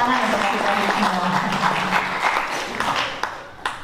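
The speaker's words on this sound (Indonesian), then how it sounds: "Tepuk tangan untuk kita semua" A crowd at a gathering in Banten applauds with dense clapping that thins out toward the end, leaving a few scattered final claps.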